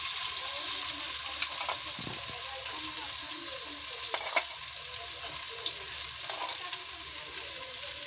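Butter sizzling in hot oil in a pan for pav bhaji, a steady close frying hiss with occasional crackles and a faint clink, continuous and unbroken without talk.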